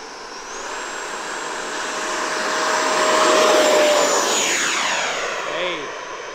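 An E-flite F-18 80mm RC jet makes a short-field takeoff with a loud, rushing whine of its ducted fan that builds, holds and then sweeps away as the aircraft passes and climbs.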